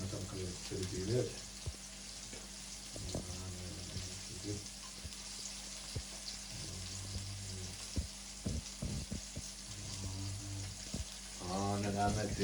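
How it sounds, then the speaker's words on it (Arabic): Marinated fish frying in hot oil in a home kitchen, a steady broad sizzle running throughout with a few clinks and stirring sounds, and brief bursts of a voice over it. "انا دابا راه وصلت للحوت وصلت باش نقلي الحوت. انا كنقلي التتبيلات"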